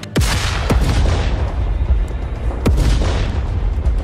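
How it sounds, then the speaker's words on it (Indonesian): A loud, deep booming explosion effect hits sharply at the start, followed by a couple of further sharp blasts amid continuous low rumbling. "ledakan keras terjadi."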